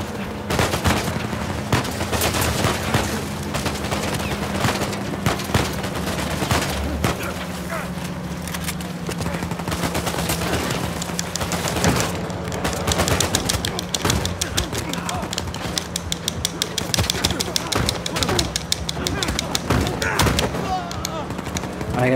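Rapid AK rifle bursts fire in Uncharted 4 during a frantic action sequence, dense crackling volleys and thuds repeating throughout over a constant droning game soundtrack, with a player voice talking intermittently.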